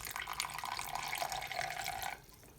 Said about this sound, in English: I'm going to add a little bit of water right now.